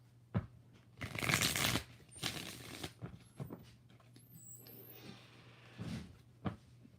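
Tarot cards being shuffled in bursts of papery riffling and flicking, a long rush near the start and shorter snaps later, fairly close against a faint steady hum, with no talking.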